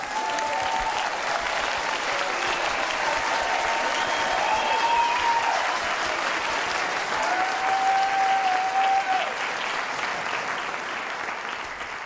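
Steady applause from a recording made by members of the Self-Isolation Choir, a dense, even wash of clapping lasting about twelve seconds, with a faint whistle-like tone drifting through the middle.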